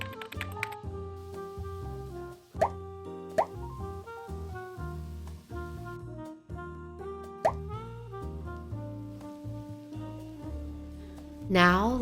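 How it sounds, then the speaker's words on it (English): A mac salad with creamy sauce stirred together in a bowl, giving a few soft, wet plops and squelches under steady background music. "Now all we have to do is assemble and mix everything together."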